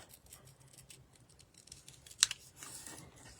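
Scissors snip through stamped paper, cutting out an image along its black outline for a paper-pieced card: faint, close, small crisp clicks and rustles with one sharper snip near the end, and no talking.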